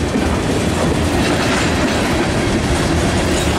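A CSX manifest freight train led by a pair of ES44 diesel locomotives rolls past at Chestoa, a loud, continuous wash of wheel rumble and clickety-clack from close by.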